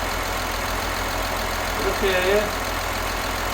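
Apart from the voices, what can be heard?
Kia Mohave engine idling after electric fan upgrade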